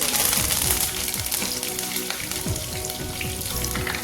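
Dried chillies frying in hot oil with fenugreek seeds for a Kerala sadya ginger curry, a steady close sizzle with scattered crackles and pops running throughout, no voices.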